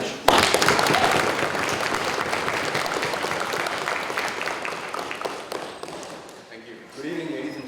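An audience at a university union debate on Mars applauds a speaker, clapping loudly at first and then tapering off, before a single voice starts to speak near the end.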